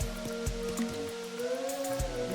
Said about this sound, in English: So it's raining for me, but nobody else.